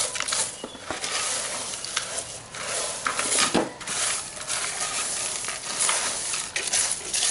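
Cheap bonsai soil is stirred together with a drainage layer, giving a steady, close, gritty rustling and scraping that swells and eases throughout.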